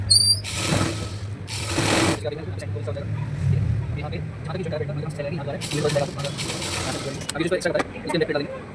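A sewing machine stitches a Pakistani farshi salwar, its steady motor hum running throughout with louder whirring bursts at intervals.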